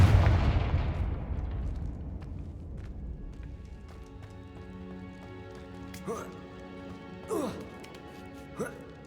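A Confringo blasting curse explosion in the Hogwarts Legacy video game: a heavy, loud boom that rumbles and decays over several seconds, followed by quieter game effects and faint musical tones.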